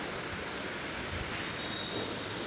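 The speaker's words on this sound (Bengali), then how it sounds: "দেখো কেমন বৃষ্টি এসছে" Steady, moderate rain falling as a continuous soft hiss, evenly textured throughout with no voices.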